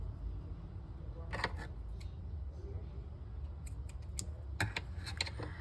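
Scissors snipping yarn while finishing an amigurumi wolf, giving a few sharp close clicks of the blades in two brief clusters over a low steady background hiss.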